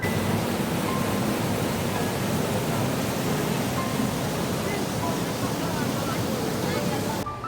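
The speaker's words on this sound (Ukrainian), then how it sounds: "Ми зупинились на такій красивій річці. Там такі малюсінькі водоспадики є." Small waterfalls and rapids on the Mizunka river in the Carpathians send up a steady, dense rushing roar that holds constant throughout and cuts off abruptly at the very end.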